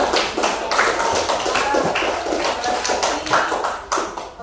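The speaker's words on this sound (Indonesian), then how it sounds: "Oke, tepuk tangan dulu Sasa." Sixth-grade pupils give a classmate a quick round of applause in a classroom, a dense patter of many small hand claps continuing steadily for several seconds without voices.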